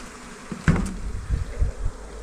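Honeybees from a colony with a drone-laying queen buzz steadily as the colony is shaken out, a close, continuous hum with a few louder thumps and bursts from handling the hive.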